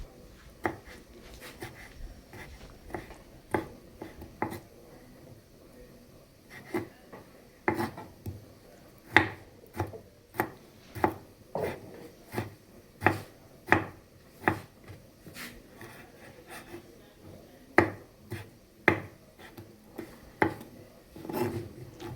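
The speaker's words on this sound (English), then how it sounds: "We're cutting the second tomato." A kitchen knife slices tomatoes on a cutting board while a wet fry pork dish is prepared, giving a close, quiet series of crisp taps at an uneven, unhurried rhythm.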